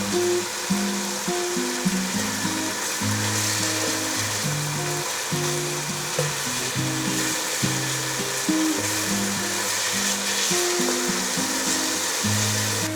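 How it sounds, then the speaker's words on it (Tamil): Chicken tikka pieces fry lightly in oil in a pan for butter chicken, giving a steady close sizzle with occasional stirring scrapes throughout, no talking. "ரொம்ப டீப் ஃப்ரை வேண்டாம், லைட்டாக ஃப்ரை பண்ணால் போதும்"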